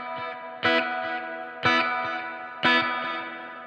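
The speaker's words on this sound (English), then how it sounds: "you can get some pretty crazy reverb sounds" A guitar played through a Fat Jimmy Jimmy Jr amp with reverb turned up: three struck chords ring out about a second apart, each trailing into a long, lush reverberant wash.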